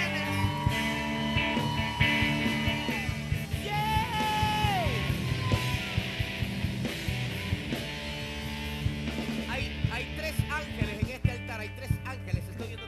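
A church congregation yells and shouts loudly together in a continuous roar, layered over music with sustained tones, rising cheers and scattered whoops throughout.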